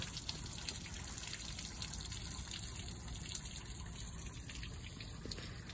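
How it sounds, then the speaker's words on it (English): Water gushes out of the pressure relief valve on a Riverside Retro 135 camper during winterizing. It is a constant, fairly faint rushing spill that holds steady throughout. "this fountain of water spilling out."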